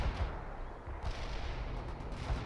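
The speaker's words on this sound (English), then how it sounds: "Missile locked. Fire." Missile fire in the real-time strategy game World in Conflict during a Soviet assault across American farmland: a few heavy booming launches and blasts over a constant roar of battle noise.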